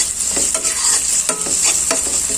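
Ginger garlic paste frying with onions in a hot pan, a constant bright sizzle broken by several scraping stirs of a spoon, close and loud with no talking.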